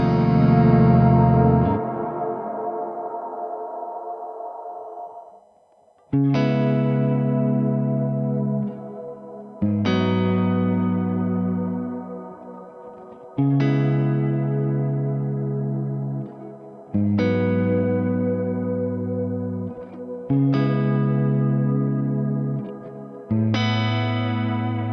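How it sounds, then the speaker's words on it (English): Clean electric guitar tone modeled on a Fender Deluxe Reverb amp with digital reverb, played as a series of ringing sustained chords, each strummed roughly every three to four seconds and left to decay in a lush, spacious tail, loud and alone. "I use a Fender Deluxe reverb with a nice digital reverb here."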